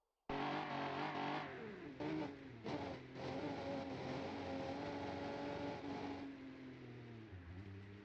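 A racing car in the BeamNG.drive driving game roars along the straight, its engine loud and sustained from start to finish, with rising revs and brief dips at gear changes before easing off near the end.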